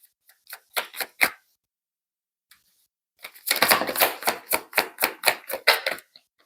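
Tarot cards being shuffled, a few quick riffling snaps first, then a denser burst of rapid flicking and slapping after a pause, close and alone.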